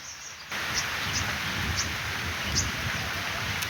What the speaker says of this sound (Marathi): पाऊस आता चांगलाच फुटला आहे पुन्हा सुरुवात झाली थांबला होता पाऊस पुन्हा आला